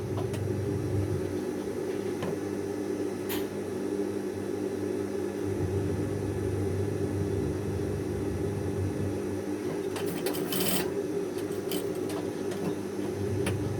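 A sewing machine topstitches the cuff placket of a men's shirt, its motor humming and whirring steadily up close for the whole stretch, with a few brief clicks and ticks and no talking.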